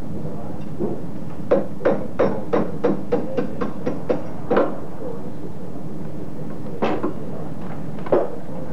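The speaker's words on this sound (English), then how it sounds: "we've got to use this lead hammer, which does not damage the silver" A lead hammer strikes hand-forged silver cutlery in a steady series of about a dozen sharp taps, then a few more spaced blows, close by over a quiet background hum.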